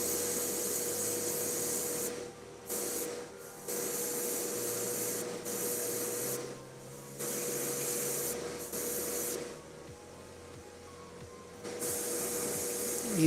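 An airbrush sprays paint in a steady, close hiss that stops and restarts in several bursts of a few seconds each, with no voice over it.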